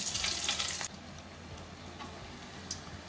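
Penilu (chiroti) sweets frying in hot oil, a steady close sizzle that is loud at first and then settles into a quieter bubbling crackle.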